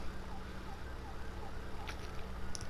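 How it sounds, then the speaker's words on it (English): Faint wavering sirens drift in from far away under steady background hum, with no voices. "whenever I hear the sirens, I'm like, ooh, man, it's the worst"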